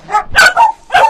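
A female Walaiti Gultair puppy barks sharply three or four times at close range, high-pitched yips in quick succession, loud and with nothing else in the sound.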